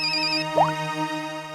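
A phone ringtone plays a short electronic melody with a bright rising chirp, clear and close with no one talking.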